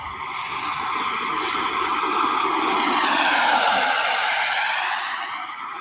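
An RC jet plane's turbine, running on Jet A fuel, roars loudly with a broad whooshing whine that swells and fades as it passes close by, with no talking.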